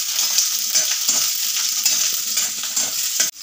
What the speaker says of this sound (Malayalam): ഒന്ന് വഴറ്റി എടുക്കട്ടെ കേട്ടോ.